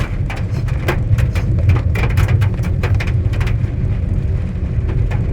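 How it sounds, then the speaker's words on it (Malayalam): Heavy rain pours steadily and loudly, a dense continuous roar with scattered sharper patters and splashes throughout. "പിന്നെ മഴയാണ് ഉള്ളൊക്കെ വെള്ളമായി"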